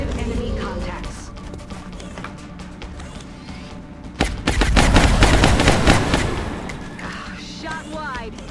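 Video game gunfire: scattered shots and distant combat noise, then a loud heavy burst of rapid automatic fire in the middle, tapering off, with a voice talking over parts of it.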